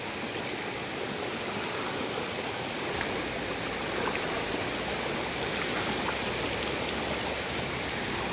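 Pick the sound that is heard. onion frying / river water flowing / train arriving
river water flowing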